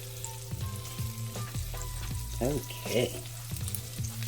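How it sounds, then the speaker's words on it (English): Meat sears in a hot pan for baked beans, with a steady loud sizzle and bursts of spattering under brief stirring clatter and a short spoken word. "Now let's sear these off until they get a little brown on each side."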